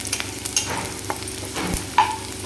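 Fried onion with turmeric being stirred in a hot pan, a soft sizzle under a few scraping spoon strokes over a short stretch.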